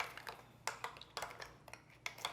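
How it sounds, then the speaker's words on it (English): A spoon stirs sugar into homemade creme fraiche in a bowl, making light irregular clinks and scrapes against the dish. The sound is faint and close, with a steady low hum underneath. "I'm adding about 2 tablespoons of sugar to about a cup of creme fraiche. I'm going to stir that up"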